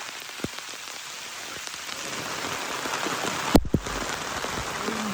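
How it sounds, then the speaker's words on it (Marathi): Heavy rain falls on a cashew orchard in the Konkan, making a dense, steady hiss, broken by a couple of brief sharp knocks near the end. "पाऊस तर काय फुल फॉर्म मध्ये आहे"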